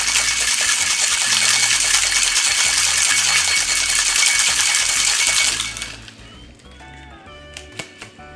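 Tiki nog, a tikified holiday eggnog, is whipped hard in a cocktail shaker with crushed ice, a dense rattling shake going on steadily for about six seconds before it stops, followed by a few faint clinks.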